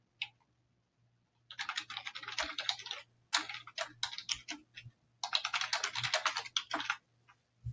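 Rapid clicking of keys on a computer keyboard in several bursts, close and fairly quiet, with short pauses between, while booking a car service appointment online.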